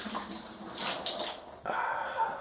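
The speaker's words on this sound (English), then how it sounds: "let's get that wort into this fermenter" Wort poured from a 20-litre jerry can into a homebrew fermenter, a steady close splashing gush of liquid that shifts to a fuller, brighter pour partway through.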